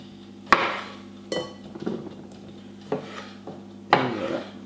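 A knife halves cherry tomatoes on a cutting board, giving five or so sharp, distinct knocks and taps spaced about a second apart, close and clear with no talking.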